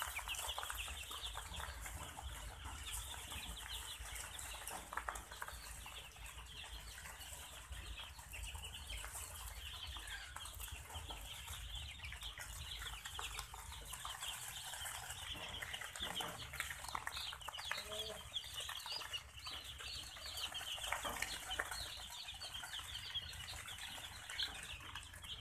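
Young desi Pakistani chickens in a paper-lined rearing space during a warm rainy spell, giving continuous clucking and chirping with wing flaps, steady and close throughout with no talk.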